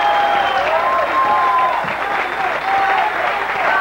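Dense applause from a crowd fills a 1998 TV show about neighborhood choreographers, steady and loud throughout, with scattered whistles and voices rising above the clapping.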